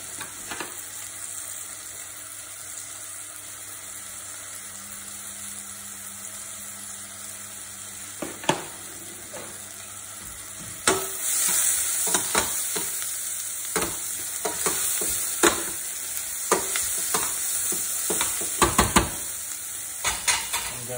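Wooden spoon stirring a pot of vegetable biryani, with scraping, soft sizzling and clattering strokes that grow busier and louder in the second half; no one talks.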